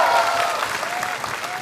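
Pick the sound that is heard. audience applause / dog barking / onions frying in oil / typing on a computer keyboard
audience applause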